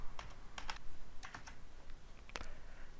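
Quick, irregular key taps on a computer keyboard as login credentials are entered, close and clear with no talking.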